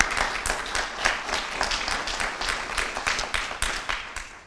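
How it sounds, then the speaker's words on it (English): Applause from an audience at a community press conference, honoring local volunteers: steady, dense clapping from many hands, moderately close and sustained for several seconds. "So I think we should also give a round of applause to the superb community volunteers that put a lot of work in,"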